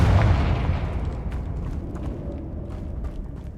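A Confringo spell explodes in Hogwarts Legacy, a loud fiery blast up front that decays into a long rumbling tail with scattered crackles.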